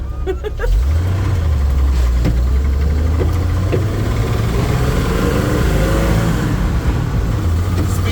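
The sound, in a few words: 1974 Ford truck engine running and revving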